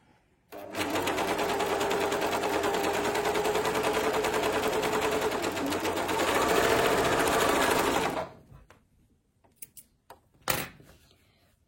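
A domestic sewing machine, not an industrial one, stitching fabric in a loud continuous rapid whir that runs about eight seconds and then stops, followed by a few faint clicks and one sharp knock.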